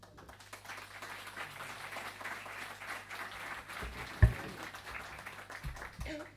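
Audience applause for the speakers at a criminal policy seminar in Antofagasta, a moderate, somewhat muffled patter of clapping with speech mixed in and a sharp knock near the end.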